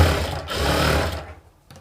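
A sewing machine runs a quick burst stitching gathers into a princess cut blouse, a loud continuous mechanical whir that slows and stops near the end.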